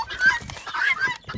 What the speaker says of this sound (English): these birds are too loud